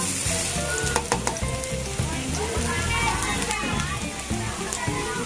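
Garlic sizzles in hot oil in a pan, with a dense, steady crackle and sputter. Occasional clatters from stirring cut through the frying.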